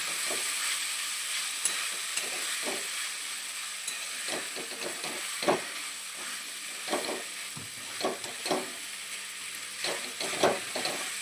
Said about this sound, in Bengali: সাবুর সঙ্গে সমস্তটা খুব ভালোভাবে নেড়ে চেড়ে নেব।